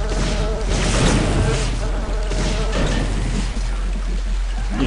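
Loud, continuous insect buzzing fills a Daikatana game scene, a dense steady drone heard alone and close throughout.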